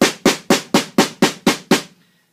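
Eight quick bass drum hits in a steady roll, alternating loud and softer strokes so the pulse sounds lopsided, ending with a short decay into silence.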